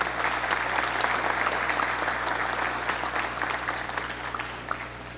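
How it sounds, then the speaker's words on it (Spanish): Sustained applause from an audience at a charity foundation tribute during a radio station anniversary event, steady and full throughout before tapering slightly at the end. "un aplauso para esta fundación que voluntariamente está apoyando al DIF."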